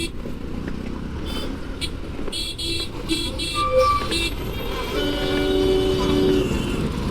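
Busy city traffic in the NCR heard from a Yamaha RayZR 125 scooter, with a steady road roar and a run of short car horn toots in the first half, then a longer tonal honk, while someone talks over it.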